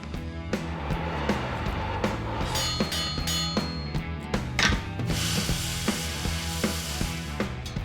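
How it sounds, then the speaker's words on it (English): Rapid mechanical clicking and grinding of a power drill driving screws into metal, with rhythmic bursts and a harsh whine, close and steady throughout. "You can drill and screw right into that."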